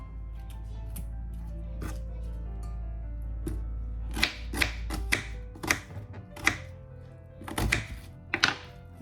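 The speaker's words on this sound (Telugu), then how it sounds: "ముందుగా ఈ ఉల్లిపాయ అయితే చిన్న ముక్కలు అయితే కట్ చేసి వేసేసుకుంటాను." A knife cuts an onion into small pieces on a cutting board, giving a run of close, irregular chopping thunks that gets busier partway through, over a steady low hum.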